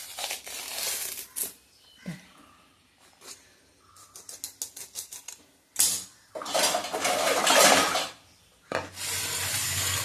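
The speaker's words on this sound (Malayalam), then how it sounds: "ഇനി നമുക്ക് വാല് കട്ട് ചെയ്തെടുക്കാം കേട്ടോ" A knife cuts the tail off a fish for a Kozhikode-style fish curry, with bursts of scraping, crinkling and rasping against a hard surface, separated by short pauses, close by.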